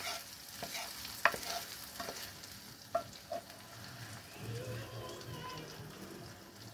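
Eggs with tomato sizzle softly in a frying pan while a utensil stirs and scrapes, with a few sharp clinks of metal against the pan.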